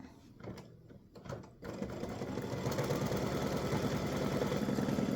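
An embroidery machine sews a triple stitch around a sacrifice panel design for a Memorial Day triple display stand, running in a loud, steady, rapid mechanical rhythm after a few uneven starts.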